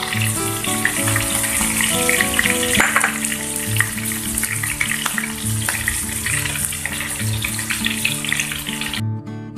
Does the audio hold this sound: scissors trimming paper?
no